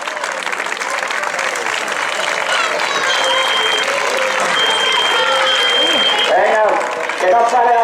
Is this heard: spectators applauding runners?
yes